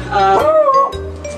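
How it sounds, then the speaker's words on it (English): A pet dog outdoors gives a short burst of yelping, whining barks, close and fairly loud, lasting about a second. "Sorry, that's my dog."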